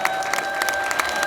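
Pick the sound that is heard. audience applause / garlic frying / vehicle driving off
audience applause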